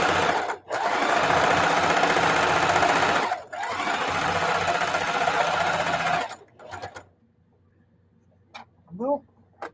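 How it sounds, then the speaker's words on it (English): A domestic sewing machine runs in long, steady bursts while stitching a Christmas table runner, loud and close, stopping twice briefly before falling quiet near the end, with a few faint clicks and a short voice-like sound. "I'm sewing, don't even have my pressing foot down."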